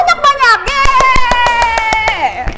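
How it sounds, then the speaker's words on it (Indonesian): In a children's class, a rapid series of hand claps rings out while a voice keeps talking over them. "Tepuk tangan yang banyak-banyak."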